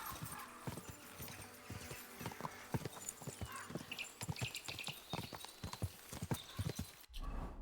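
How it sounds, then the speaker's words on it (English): Horse hooves clip-clop at a slow, steady walk in the video game Kingdom Come Deliverance 2, with occasional soft snorts alongside the even, moderately close hoofbeats. "Easy. Quiet now, horsey. Slowly. Nice and slow."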